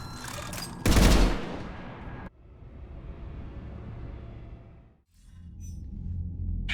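Krogan cannons fire in the Mass Effect 3 video game: a loud heavy blast burst with rumble, followed by a sustained low roar that fades, then another rumble building.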